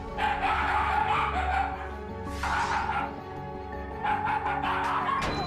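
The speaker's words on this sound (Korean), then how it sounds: "하루에도 몇 번씩 으르렁거리는 녀석들" Two Shiba Inu dogs at home trade close, loud barks, yips and snarling vocalizations in a continuous scuffle, with a sharp high whine partway through and the noise running almost without pause.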